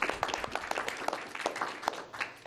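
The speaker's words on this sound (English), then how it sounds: "I think we should give them a round of applause." A small audience at a planning commission meeting gives brief, scattered applause, with individual claps heard fairly faint and sparse.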